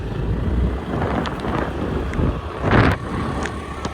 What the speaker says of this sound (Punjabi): ਮੈਨੂੰ ਰਸਤੇ 'ਚ ਬਾਰਿਸ਼ ਨੇ ਘੇਰ ਲਿਆ